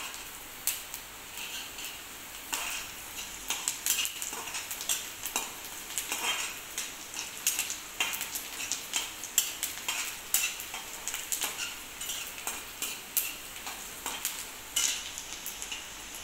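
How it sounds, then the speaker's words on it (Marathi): Onion sautéing in a pan for fried egg masala: a steady sizzle runs throughout, with frequent scraping and stirring clicks of a utensil against the pan, close and moderately loud, no talking. "कांदा असा गुलाबी कलर येईपर्यंत असा छान असा परतून घ्यायचा आहे"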